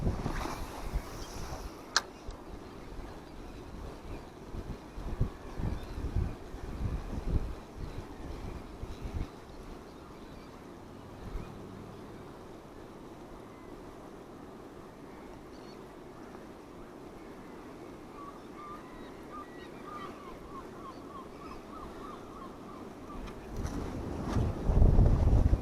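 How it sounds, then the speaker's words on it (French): Outdoors by the water under a stormy sky, wind buffets the microphone in a steady low rumble. It is strongest at the start and end and eases off in the middle, with no speech. "Moi, c'est le vent là qui me dérange."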